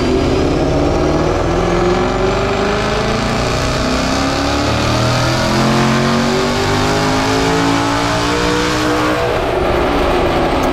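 A twin-turbo Ford Mustang with a Hellion Sleeper kit revs hard on a chassis dyno, engine note climbing steadily through the gears in a loud, continuous pull with rising harmonics before easing off near the end.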